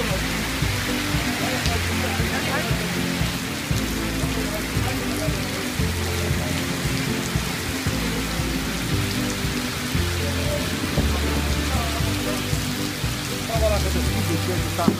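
Heavy rain pours steadily in Peshawar, a dense continuous hiss of drops drumming on surfaces throughout, loud and close with no break.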